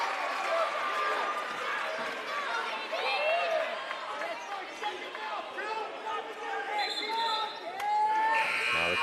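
At a college men's basketball game, the arena crowd jeers a player with a loud, sustained roar of voices, while a commentator talks over the noise.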